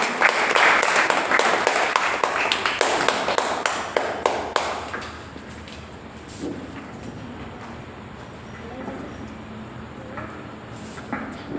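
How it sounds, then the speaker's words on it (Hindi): An audience at a birthday celebration event claps loudly for several seconds, then the applause thins out and fades into quiet room noise. "आप लोग जोरदार तालियां बजाकर"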